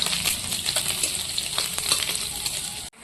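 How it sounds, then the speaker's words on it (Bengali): Crushed garlic frying in hot oil in a pan, a steady close sizzle with soft crackles and spatters throughout, cutting out abruptly just before the end. "রসুনটা একটু লাল লাল করে আমি ভেজে নেব।"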